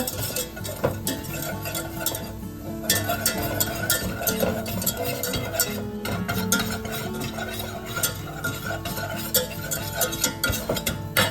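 Spoon stirring flour as it browns in a pot over medium heat, a busy scraping clatter of utensil against cookware running steadily throughout, close and fairly loud.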